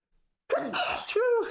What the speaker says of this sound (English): Oh, and I got to sneeze.